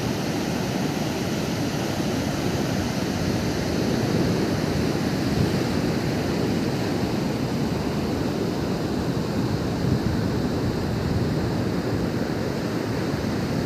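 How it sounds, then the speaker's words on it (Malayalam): Steady roar of monsoon-season ocean surf breaking continuously on shore, a broad rushing wash with no voices, loud and close throughout. "തിരമാലകൾ മാത്രം ആഞ്ഞടിക്കുന്ന തിരമാലകൾ മാത്രം"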